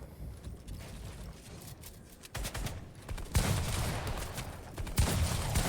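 Rapid gunfire in a Fortnite match, bursts of shots crackling in clusters with sharper loud volleys near the end, no talk over them.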